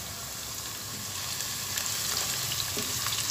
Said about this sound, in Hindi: ऑयल के गर्म होते ही एक बड़े साइज़ की कटी हुई प्याज डाल दूंगी मैं।